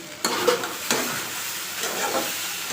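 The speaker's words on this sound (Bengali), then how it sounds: "এখন ভেন্ডি ভাজা করছি" Okra sizzles in a hot pan with a steady hiss, broken by a few sharp scraping stirs of a spatula; no one speaks.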